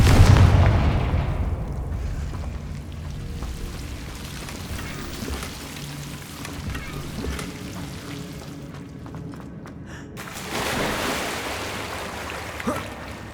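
A Confringo blast spell in Hogwarts Legacy detonates with a loud, close explosion at the start, then fades into a rushing, surf-like roar that lingers before a second swell of debris noise near the end.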